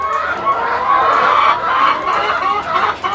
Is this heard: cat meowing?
no